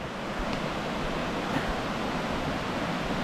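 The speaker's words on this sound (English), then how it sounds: "just to hear this river rush as it is today" Steady, full-band rush of a river swollen by spring rains at the Lover's Lane boardwalk in Webster Springs, West Virginia, a continuous roar heard up close with no voices over it.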